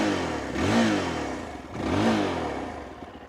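Close by, the engine of a 2025 Yezdi Adventure motorcycle revs twice, each throttle blip rising to a whirring peak and falling back toward idle.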